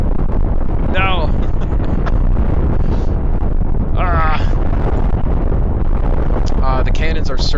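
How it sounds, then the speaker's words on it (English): Repeated heavy booming blasts from ship cannons firing in the space-combat game Cosmoteer, loud and continuous with rumbling low end and short whooshing, zipping shots layered on top. "The cannons are certainly firing"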